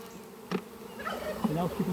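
Honeybees buzz around a beehive being split, a soft, close, wavering hum with a few louder passes near the end.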